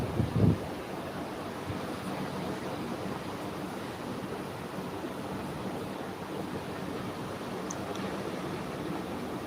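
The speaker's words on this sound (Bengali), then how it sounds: "দেখেন ঢেউয়ের কি প্রকোপ" Sea surf at Kuakata beach rolls in as a constant broad wash of breaking waves under gusting wind buffeting the microphone, steady and loud with no voices.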